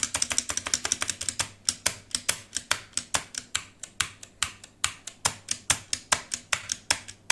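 Keys pressed one at a time on an EPOMAKER GK64XS keyboard, a steady run of crisp, close clicks and clacks at a brisk even pace, with a few slightly heavier stabilized keys among them.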